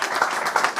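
Audience at a French stand-up comedy show bursting into a brief, dense round of applause, a steady wash of many hands clapping close by.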